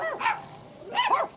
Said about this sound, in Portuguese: Os cachorros desconfiam e começam a latir